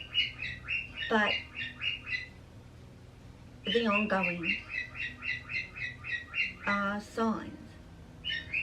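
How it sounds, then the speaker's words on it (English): Pet birds squawk and chirp in rapid repeated bursts behind a person talking indoors, with a few louder calls standing out between the speech. "now you're going to hear my birds in the background"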